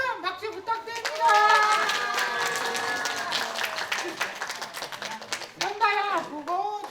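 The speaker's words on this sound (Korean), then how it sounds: "전태민님에게 큰 박수 부탁드립니다" At the 2025 Eunpyeong People First gathering for people with developmental disabilities, a crowd applauds the speaker: many hands clapping at moderate loudness, mixed with voices, some sounding like children, talking and calling out throughout.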